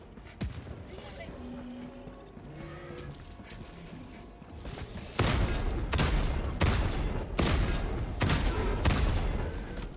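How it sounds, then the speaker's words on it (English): Autocannon fire against bugs in Helldivers 2 on the hardest Helldive difficulty, heavy repeated booming shots in a steady rhythm from about five seconds on, with softer game sounds and talk before. "While the autocannon definitely has issues against the Biotines, it does make some other bugs a lot more fun"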